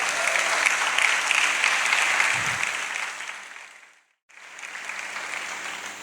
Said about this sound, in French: Merci de l'accueillir par vos applaudissements